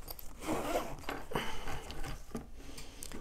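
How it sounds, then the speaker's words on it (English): A zipper on a GS-911 diagnostic tool carrying case is pulled open in one close, steady rasping sweep, with a brief slide sound near the end and no talking. "So we unzip this."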